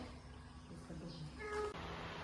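A cat meows a couple of times amid background voices and room noise, the short calls fairly faint and mixed under the chatter.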